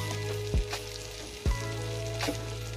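A salmon steak fries in oil and butter in a pan, giving a constant close sizzle, with three soft thumps or pops spaced about a second apart and no voices.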